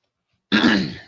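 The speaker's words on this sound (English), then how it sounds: "I need to clear my throat" A single brief, close throat clearing after a moment of silence, rough and raspy, then fading quickly.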